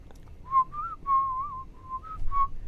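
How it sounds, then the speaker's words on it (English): A person whistles a short wandering tune of several sustained notes, fairly close and clear against a quiet background with no speech. "you hear like a whistling"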